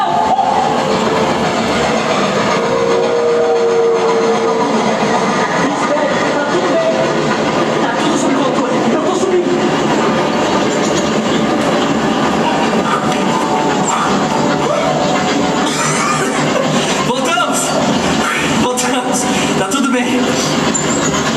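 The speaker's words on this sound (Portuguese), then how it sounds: "Tem um trem vindo na nossa direção." A train rumbling along the rails toward a rail vehicle full of passengers, a loud continuous roar with clattering wheel noise throughout, overlaid by voices and an announcer talking.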